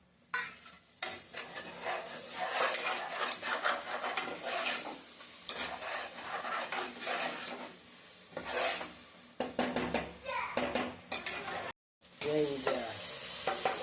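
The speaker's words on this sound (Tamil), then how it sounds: "புதினா தழையை நம்ம அதில் போட்டு கிளறி விட்டுக்கலாம்" Mint leaves stirred into frying mutton biryani masala in a pot, a steady sizzle with scraping spoon strokes and rubbing, briefly cut to silence near the end, with no talking.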